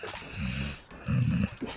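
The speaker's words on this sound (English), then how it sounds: "my dog is behind me snoring" A fat pet dog snores nearby, giving two low, rumbling drawn-out snores separated by a short pause, fairly loud and close.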